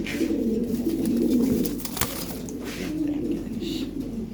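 Lahori Sirazi pigeons coo close by in repeated low, throaty rolling calls, with a faint flutter or knock midway.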